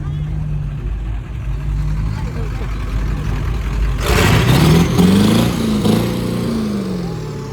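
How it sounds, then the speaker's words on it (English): A turbo diesel car revs hard during a burnout at a car meet, the engine roar surging loudly in the second half over crowd chatter and people talking. "That's that turbo diesel for you."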